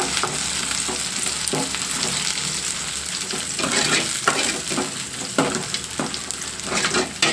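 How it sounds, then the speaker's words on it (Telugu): Onions, green and dried red chillies, garlic and curry leaves sizzle in hot oil in a pan with a steady hiss, and a spoon scrapes and clacks irregularly as it stirs. The frying is close by and no one speaks. "ఉల్లిపాయలు పచ్చిమిర్చి ఎండుమిర్చి ఎల్లుల్లిపాయలు కరివేపాకు ఇవన్నీ కూడా కొంచెం బాగా గోల్డెన్ బ్రౌన్ కలర్ కొంచెం కలర్ మారేంత వరకు వేయించేసుకుని"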